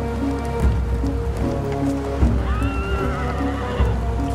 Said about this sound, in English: Horses gave Europeans another massive advantage.